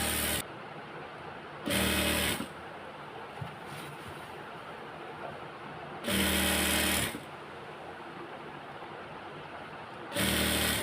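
A sewing machine stitching a georgette dress with falls runs in three loud, close bursts of rapid mechanical whirring. Quieter pauses in between carry faint handling noise.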